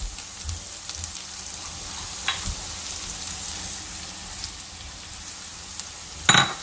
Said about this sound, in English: Mix it once and let the semiya fry in open heat.